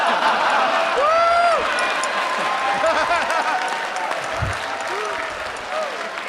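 A studio audience claps in a loud sustained burst that gradually thins out, with someone talking over the applause.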